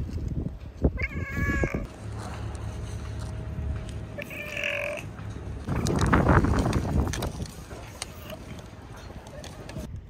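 An abandoned cat in a war-damaged town meows twice, short, clear cries a few seconds apart, with a person talking nearby and a louder scuffling, rustling burst following the second meow.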